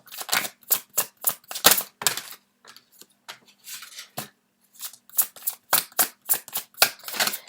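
Tarot cards being shuffled close up, with loud, quick riffles and flicks in bursts, a short quieter pause in the middle, then another run of crisp shuffling.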